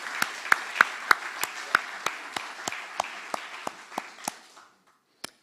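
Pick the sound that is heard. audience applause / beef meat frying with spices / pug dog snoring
audience applause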